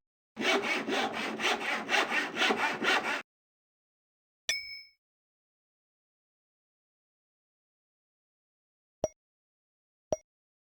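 A saw drags rhythmically through wood, about eight quick even strokes from Eeyore in a Winnie the Pooh video game, followed by a bright ding and two small clinks after a pause.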